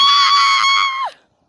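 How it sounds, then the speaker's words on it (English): A person screams outdoors on a hilltop: one sustained, loud, high-pitched yell lasting about a second that ends in a quick falling tail, then quiet. "I'm gonna try like and scream one more time and see what happens"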